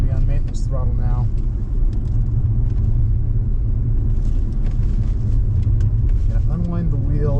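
An Audi circles a race track during a track day, its engine held at steady maintenance throttle in a continuous low rumble with wind buffeting, while an instructor speaks over it.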